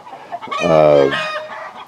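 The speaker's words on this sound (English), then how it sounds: "one of the hens is proud of an egg that she just laid" A hen clucks loudly and close by after laying an egg in a backyard flock, building to one drawn-out, harmonic squawk in the middle with softer clucks before and after.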